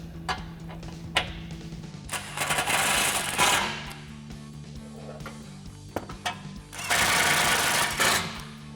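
T45 Torx bit driven by a power tool tightening bolts on a Rugged Ridge Venator front bumper for a Jeep Gladiator JT, two loud rattling bursts of ratcheting driving separated by brief clicks and pauses.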